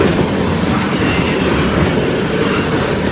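Long freight train with distributed power rumbling past close by, a loud steady roar of wagons with rhythmic clacking wheels on the rails and no voices.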